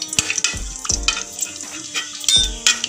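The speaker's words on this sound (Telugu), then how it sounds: "జీలకర్ర వేసానండి. ఆయిల్ కాగిన తర్వాత" Cumin seeds sizzle and crackle in hot oil and ghee at the start of a mixed vegetable moong dal khichdi, with a ladle stirring and scraping the pan in several bursts.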